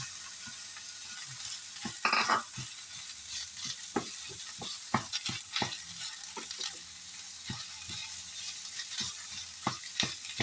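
Ground meat fries with onions in a pan, a steady close sizzle broken by frequent scraping and clacking as a utensil stirs it.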